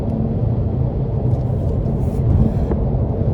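A 2022 Cadillac CT5-V Blackwing engine pulls at full throttle, a deep, continuous rumble heard from inside the car, steady and fairly loud with a slight swell near the end.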